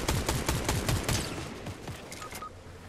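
Rapid sniper and automatic gunfire in a Fortnite match crackles in a dense burst of overlapping shots, loud at first and thinning out toward the end.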